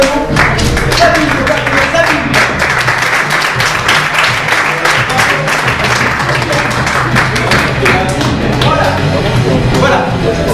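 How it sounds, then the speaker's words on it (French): An audience at an improv comedy show claps loudly and continuously. Many close, sharp individual claps run under scattered voices and crowd noise. "Merci, on peut l'applaudir"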